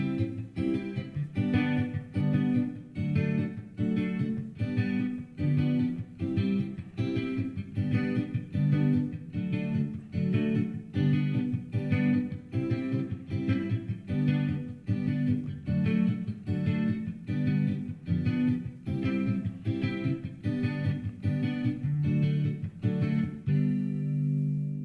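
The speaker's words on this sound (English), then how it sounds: "So that same progression, right, played with a mento strum would sound something like this." Guitar chord progression strummed mento-style with the fingers, no pick, in a steady, even rhythm of repeated chord strokes, heard alone for about twenty-five seconds before the last chord fades.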